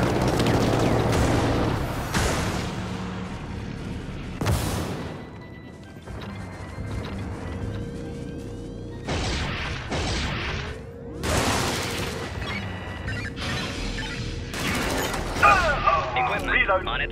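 Artillery strike explosions in the video game Helldivers land as a series of heavy booms and crashes, spaced irregularly with metallic mechanism noises between them and a voice speaking over the action.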